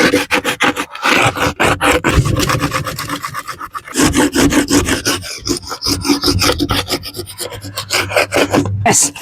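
Rough, rhythmic rasping of a wood piece rubbed hard against the gritty edge of a hypertufa trough, in quick repeated strokes with brief pauses between bursts.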